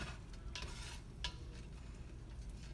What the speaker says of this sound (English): And then she's gonna stir it in.